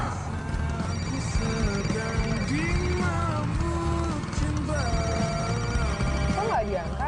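A telephone rings during an Indonesian TV drama scene, repeated rings under background music and voices.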